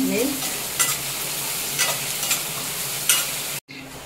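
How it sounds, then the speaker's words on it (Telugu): Sliced onions with salt fry in a pan while being stirred, a constant close sizzle broken by periodic scraping strokes, then cutting off abruptly near the end. "ఇప్పుడు బేగ మగ్గిపోతాయండి ఉల్లిపాయలు. సాల్ట్ వేస్తే బేగ మగ్గిపోద్ది."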